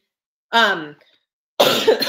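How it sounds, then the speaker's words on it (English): A close, throaty cough, followed about a second later by a second harsher, breathier cough burst. "Excuse me, I'm recovering from a cough."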